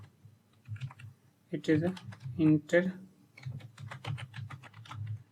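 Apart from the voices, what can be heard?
typing a code comment on a computer keyboard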